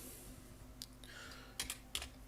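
Keys clatter on a computer keyboard as a Linux install command is typed on an Ubuntu server, a handful of sharp clicks spread irregularly over a quiet, steady room hum.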